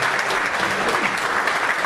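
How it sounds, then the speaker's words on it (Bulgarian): Steady, dense applause from an audience at a Varna footballer-of-the-year ceremony honouring player Samuel Kamazola of Cherno More, sustained and fairly loud throughout. "Аплодисменти за Камазола."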